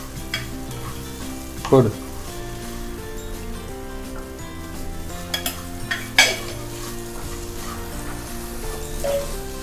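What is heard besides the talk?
semolina being stirred and fried in a pan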